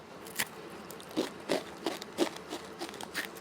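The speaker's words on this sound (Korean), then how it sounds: "여러분 생각해보니 같이 과자 비스코티가 있었어요. 한번 먹어보겠습니다." Crisp, dry crunches from biting and chewing a black sesame biscotti, a steady run of close, fairly quiet bites and chews repeating roughly every third of a second.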